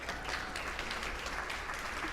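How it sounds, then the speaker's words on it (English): At the Mindful Money Conference 2025, an audience applauds its expert panelists: continuous, dense clapping from many hands, steady and fairly quiet throughout with no voices over it. "Please give a huge round of applause to our expert panelists."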